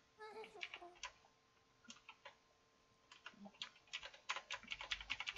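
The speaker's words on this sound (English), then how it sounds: "I'm honestly not bad at typing." Rapid tapping on a computer keyboard during a Minecraft session, a run of light crisp clicks that start sparse and build into a dense flurry toward the end, close and fairly quiet with no talking.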